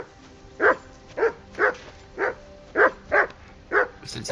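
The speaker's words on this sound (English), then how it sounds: "I assume you can hear that damn dog of yours barking." A dog barks repeatedly in the medieval video game Kingdom Come: Deliverance II, eight evenly spaced single woofs at moderate distance over a quiet background.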